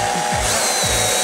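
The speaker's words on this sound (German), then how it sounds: "Du darfst nicht komplett durchbohren, weil wenn du oben wieder rauskommst, dann warst du zu weit." A power drill bores into a front spoiler bodykit part for a Mini F56 John Cooper Works, a loud, close, steady whine with shifting pitch over about a second.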